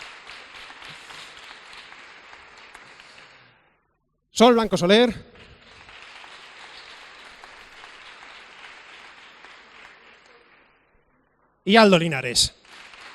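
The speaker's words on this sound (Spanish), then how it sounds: "José Luis Márquez, otro aplauso." Two long stretches of audience clapping at a talk by the Hepta group, each swelling and then dying away, broken up by a presenter's loud, close voice calling out names between the rounds.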